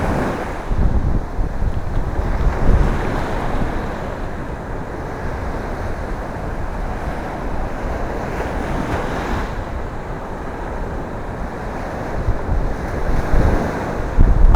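Waves and wind on the beach at Tulum, Mexico: loud, continuous surf with rumbling wash and gusts buffeting the microphone, swelling slightly at the end.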